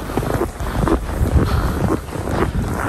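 Strong wind roars steadily across the microphone while walking on a pile of snow, a loud, continuous buffeting rush with no speech.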